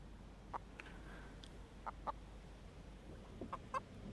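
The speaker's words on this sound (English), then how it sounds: "There's the chicken." A chicken in the VR game Blade & Sorcery, resting in hay, gives a few short, quiet clucks spread across a calm background.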